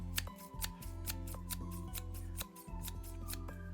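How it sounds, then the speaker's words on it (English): Dressmaking shears snipping in quick succession, with a steady run of sharp, close metallic clicks over a constant low machine hum and no talking. "Let's compare the snipping sounds."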